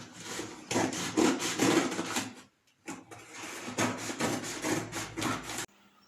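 Cardboard being cut to make slits in a nutcracker doll's hat, heard as two long stretches of close, rough, rasping strokes divided by a short pause.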